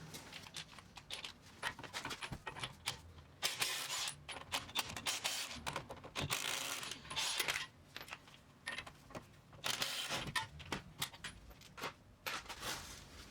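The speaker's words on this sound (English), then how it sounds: "we're going to go ahead and take out the two caliper bracket bolts. These are 21mm." Metallic clicks, clinks and rattles from a ratchet loosening the 21 mm caliper bracket bolts on the front brakes of a 2017–2019 Chevrolet Cruze. They come in irregular close bursts with brief pauses and no talk.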